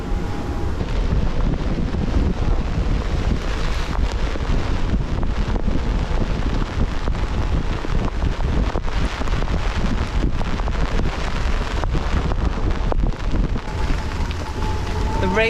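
Wind roars and rain lashes across a sailing boat beating to weather in a near gale, a loud, steady, buffeting rush of gusts and spray that continues without a break.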